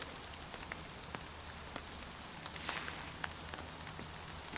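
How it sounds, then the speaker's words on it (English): Steady rain patters on the fabric of a hot tent at near-freezing temperatures, a dense close hiss with scattered sharper drop hits, no voices. "And now, as soon as I get outside, it switches over to rain."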